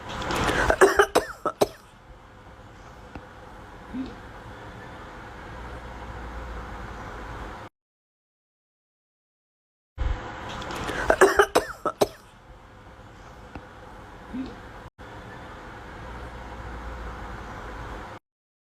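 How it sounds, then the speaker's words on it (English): A few sharp coughs burst out in quick succession, then quiet road noise hums in the background before another cluster of coughs. "You hear a cough."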